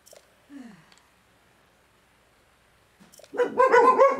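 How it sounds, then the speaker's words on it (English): Dogs barking indoors near a microphone, a brief whine early on, then after a quiet stretch a burst of loud, overlapping barks at the end. "My dogs were barking because someone was cleaning up grass outside."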